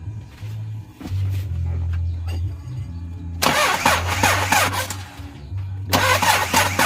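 A Hyundai Porter 2 truck with a D4CB diesel cranks with a steady low hum from the starter, then catches and rumbles loudly close by. It settles toward idle after a second surge, with brief voices over the start.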